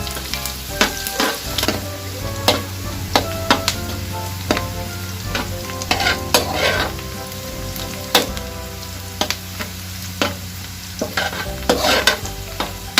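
Garlic sautéing in a pan for ginisang labanos, a steady close frying sizzle broken by repeated sharp scrapes and clinks of a utensil stirring against the pan.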